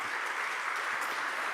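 A brief burst of warm applause from a seated audience at a church denomination candidates' policy forum, dense even clapping with no talk over it.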